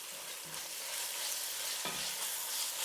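Ginger and garlic paste being stirred into sizzling golden onions, a continuous bright frying hiss with a couple of soft scraping stir strokes, close and without talk.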